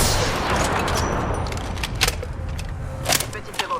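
Gunfire in the video game Apex Legends: a dense wash of shots and noise with a few sharper cracks near the end, loud and continuous throughout.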